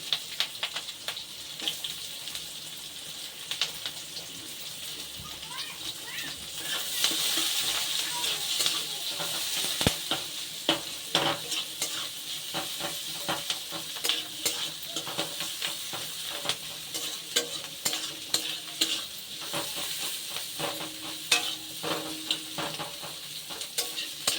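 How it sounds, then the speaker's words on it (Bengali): Chopped onions and slit green chilies frying in oil, stirred with a spatula for a fish-oil and potato dish, giving a steady sizzle with scraping and clinking strokes throughout, without talk. "দেখুন একটু খুন্তি দিয়ে এরকম করে দিলে কিন্তু সমস্ত পেঁয়াজগুলো কিন্তু ছেড়ে ছেড়ে যাবে।"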